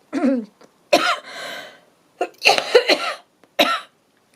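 Several harsh, close coughs in short bursts, with brief pauses between them and a throaty clearing sound, no talking.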